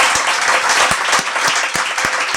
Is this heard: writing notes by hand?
no